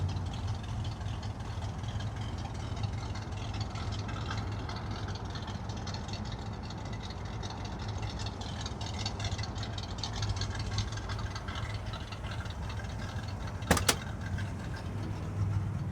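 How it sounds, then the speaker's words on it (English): A deep 1972 Ford Bronco 302 V8 engine burbles through its exhaust at a steady idle, low and continuous, with a brief sharp click partway through. "Exhaust sounds nice."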